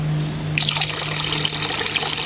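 Garden water fountain pump switching on after a low hum, then water splashing and trickling steadily into the basin, close and continuous.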